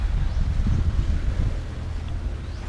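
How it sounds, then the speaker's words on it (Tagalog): Steady, heavy wind buffeting the microphone outdoors during a camera drone flight, with low rumbling gusts throughout, loud and continuous with no voices. "medyo malakas talaga yung hangin kaya hindi nag-i-steady."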